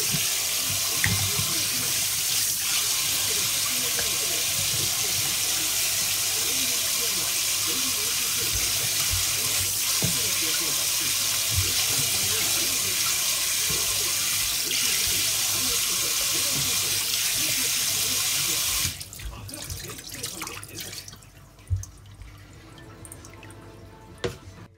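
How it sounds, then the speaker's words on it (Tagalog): Bulalo beef broth being poured through a strainer, a steady close splashing, trickling pour that runs continuously before stopping, leaving a few drips and faint handling clatter. "Sasalain natin ngayon. Kaya nalagyan natin sa panala para walang dumi lumabas."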